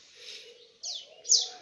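A pet sirtu songbird kept at home calls in short bursts: a soft tone first, then two sharper, brighter chirps, fairly close and alone in a quiet room.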